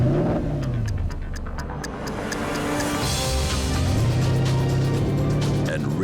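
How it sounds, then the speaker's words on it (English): A powerful Porsche Cayenne GTS V8 engine with sports exhaust revs and roars close by, pitch falling then climbing again, with a deep throaty exhaust note throughout. "Enriching the powerful engine sound."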